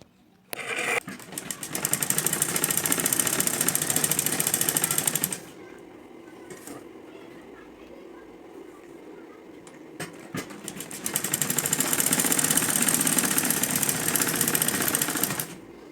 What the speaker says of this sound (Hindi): इस तरह से इस पर ये अस्तर रख के सिलाई लगाना है यहाँ से यहाँ तक।